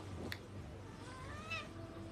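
A small kitten gives one short meow, then a longer, rising drawn-out meow during an indoor livestream, with faint room noise around it.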